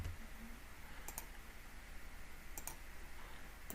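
Mouse clicks while drawing in CAD software come in two sharp double clicks, small and faint over a quiet room hum, with no talking.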